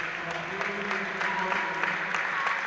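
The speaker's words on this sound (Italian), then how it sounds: "Applausi dei supporter Brianzoli a Daniele Quartieri" Supporters at a basketball game between Lecco and Desio applaud steadily, a dense wash of hand claps from the stands, moderately loud and continuous with a courtside commentator's voice faintly underneath.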